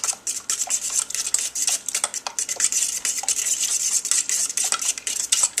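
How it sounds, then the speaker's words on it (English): A fork stirs yogurt in a pot, making a quick run of light scraping clinks and soft wet swishes, steady and close with no talking. "Just mix it in with the fork."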